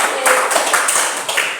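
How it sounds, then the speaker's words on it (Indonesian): Group of students clapping their hands together in a classroom, a short burst of loud, close, slightly uneven claps lasting under two seconds. "Mana tepuk tangannya?"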